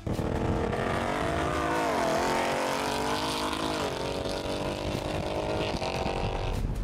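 A Roush supercharged 2018-2021 Ford Mustang with a Gen 3 Coyote V8 accelerates on the road, loud engine drone and blower whine rising and falling through the gears, heard up close with no talk.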